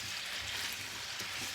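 Kielbasa frying in a mix of olive oil and vegetable oil over medium-high heat, giving a steady, close sizzle that holds throughout with no speech.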